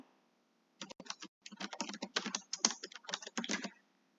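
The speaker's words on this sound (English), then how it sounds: "Now I'm just going to type trending now." Close, quick clacking of keys on a computer keyboard in several rapid bursts with brief gaps, crisp and alone after a moment of quiet.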